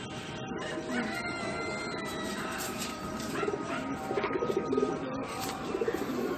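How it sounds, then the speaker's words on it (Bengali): Male Phulshira pigeon cooing among other birds, soft repeated throaty coos building toward the end over a busy background of fowl clucking and chirps, fairly faint. "এটা ফুলশিরা নর পায়রা"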